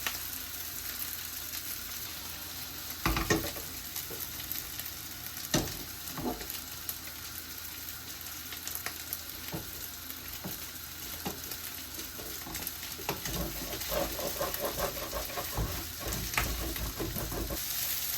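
Whisked egg fries in a hot pan, giving a steady, close, broadband sizzle that runs throughout with scattered pops and occasional stirring clicks. No one speaks.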